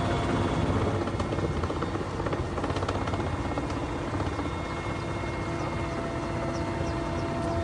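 A rescue helicopter's steady, heavy rotor chop and engine roar fill the whole stretch, loud and continuous with no pauses, during a supply drop over flood-hit Himachal Pradesh.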